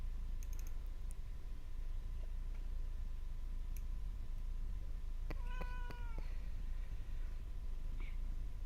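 A cat gives a single clear meow with a rising then falling pitch midway, set against a steady indoor hum, with a few faint clicks and taps around it and no talk.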